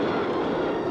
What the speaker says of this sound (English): Now one electric loco hauls, while another just nudges the train up the steepest section.